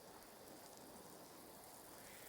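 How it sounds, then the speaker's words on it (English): A garden hose sprays a gentle rain-like pattern onto a car with a fresh coating, a soft, steady hiss of droplets pattering on the bodywork, faint and continuous. "Let's get a nice pattern on the hose, something similar to rain"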